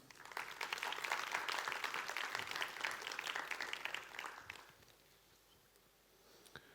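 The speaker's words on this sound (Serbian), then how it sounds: "Mogu i duži aplauz dok dođe čovjek" Applause from a seated audience welcomes guests walking up to a panel discussion on digital media, steady clapping for about four seconds that thins out into quiet room noise and a few scattered claps.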